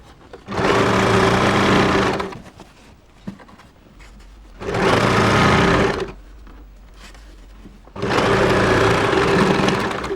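Three bursts of steady sewing-machine stitching through fabric, each about two seconds long with short quiet gaps between them, close and fairly loud.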